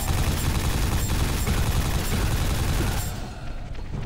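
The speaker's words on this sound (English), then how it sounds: "Nail gun is the most effective gun against these two." Nail gun firing in Quake 4, a dense continuous rapid stream of shots with heavy low thumps, loud and close, cutting off abruptly near the end.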